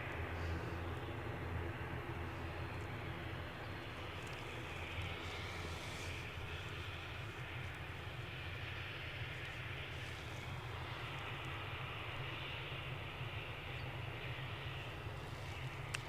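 An Airbus A321neo airliner at Edinburgh airport gives a steady, distant engine roar with a broadband hiss that holds evenly throughout, faint and without talk.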